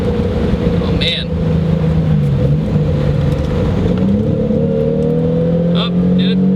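Toyota Supra engine droning steadily while the car is driven at speed, a sustained low hum with shifting pitch, road and wind noise throughout, faint tyre and cabin sounds, and someone talking in the cabin over it.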